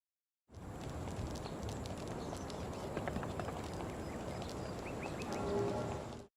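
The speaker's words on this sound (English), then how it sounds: "hopefully you noticed the change in footstep impact when the character went onto the wooden boards from the stone path" Footsteps of a video game character crossing from a stone path onto wooden boards, a steady run of crisp close steps over a constant ambient bed, with no talking.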